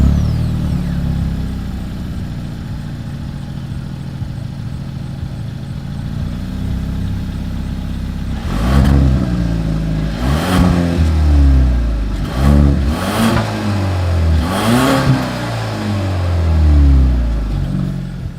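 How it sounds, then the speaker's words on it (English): A 2023 Genesis G70 with its 2-liter engine idles with a low, steady exhaust rumble, then is blipped through four or five sharp revs that rise and fall back, loud and close at the tailpipe. "As always, here is that exhaust clip."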